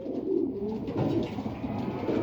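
Racing pigeons back from a 130-kilometre training flight coo steadily in their loft, a close, continuous low burbling with overlapping calls and no talking.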